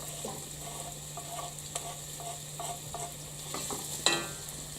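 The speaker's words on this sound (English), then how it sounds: "The sizzling sound." Chicken, garlic and onion sizzle softly in a pan with a steady background hum, while a utensil stirs and scrapes in short repeated strokes, one sharper clack near the end.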